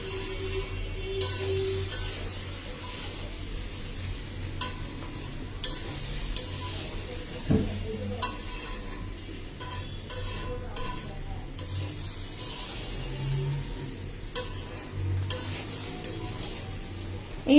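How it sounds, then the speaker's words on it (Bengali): Rice and lentils being stirred in a pan for bhuna khichuri, with soft scraping and shuffling over a low steady sizzle, close and continuous with occasional knocks. "এবার চালটা ডালটা আমি সুন্দর করে মিশিয়ে নিলাম।"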